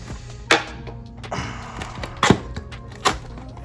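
A blade cutting the label on a collectible replica box, heard as a few sharp, close taps and scrapes spaced irregularly over a quiet background, with no talking.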